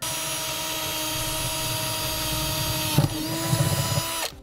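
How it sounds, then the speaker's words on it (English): A power drill whines steadily for a few seconds, then bites and stutters as it cuts a pilot hole through metal on a 2009 Chevrolet before stopping abruptly. "In the middle of our square, we'll drill a pilot hole."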